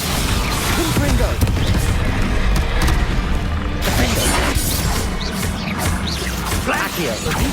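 Fiery Confringo blast spell cast in Hogwarts Legacy during dense combat, a booming crackling burst among continuous clashing impacts and effects, with a character shouting spell names over the noise.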